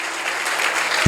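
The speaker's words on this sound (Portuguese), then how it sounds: "Quantos podem aplaudir ao Senhor?" A church congregation applauding at a worship service, a brief dense wash of clapping close by, ending in a sudden low thump.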